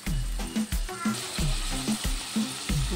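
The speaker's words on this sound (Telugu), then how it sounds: "పచ్చిమిర్చి, కరివేపాకు ఇవి బాగా ఫ్రై చేసుకుందాం." Green chillies and curry leaves fry in oil for a chicken curry, giving a steady close sizzle broken by regular knocks and scrapes of stirring.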